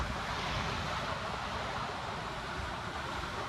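Dam release floodwater surging with waves near the Sapgaon bridge in Shahapur, Thane, a continuous broadband roar of rushing water with a wind-buffeted rumble, steady and moderately loud throughout.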